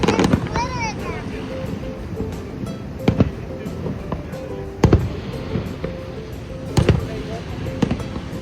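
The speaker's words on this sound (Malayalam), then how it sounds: "ഞങ്ങൾ അടുത്തതായി ഫയർ വർക്സ് കാണാൻ വേണ്ടി അമേരിക്കൻ ഫാളിൻ്റെ അടുത്തേക്ക് പോവുകയാണ്" Fireworks burst over Niagara Falls near the American Falls at night, sharp booms and pops landing every second or two against steady background noise and wind, with a faint whistle early on.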